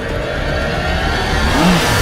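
A Bajaj Pulsar 250 motorcycle revs loud and close, its engine and exhaust note holding a steady roar that swells slightly toward the end.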